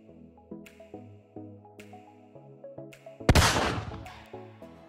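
A single loud gunshot blast from an indie western duel video game, breaking sharply over a looping game melody and decaying into a long ringing tail.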